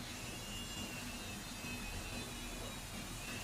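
A rechargeable PCB polish grinding tool with a 3-speed gear runs steadily at close range, giving a continuous high whirring motor whine with no pauses and no talking.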